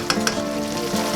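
Oil sizzles and crackles continuously as gochujang is stir-fried in a hot pan for tteokbokki, with a couple of sharper pops near the start.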